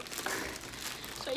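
A small greeting card package is opened, with close, continuous crinkling and rustling of packaging over about a second.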